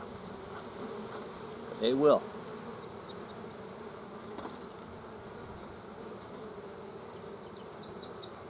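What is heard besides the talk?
honeybees buzzing on a hive frame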